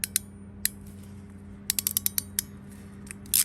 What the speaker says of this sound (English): And we'll crimp it.